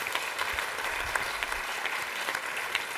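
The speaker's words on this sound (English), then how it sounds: "we really have to applaud the superb performance that's been put up today" Audience applause for performers at an evening of sacred Sikh music, a steady dense wash of many hands clapping continuously throughout, moderately loud and even.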